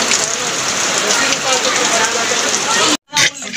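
Steady, loud rain falls continuously, a dense hiss of drops on surfaces that cuts out abruptly near the end before resuming, during an outdoor family Nuakhai celebration.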